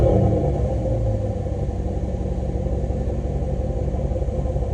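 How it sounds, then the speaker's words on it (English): A 2024 GMC Sierra 1500 Denali pickup's active exhaust rumbles deeply at idle, loud and close, a steady low burble throughout. "this truck does have the active exhaust system added to it"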